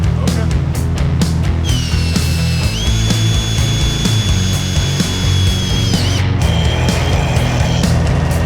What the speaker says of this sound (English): So I have to drill holes in the fender supports.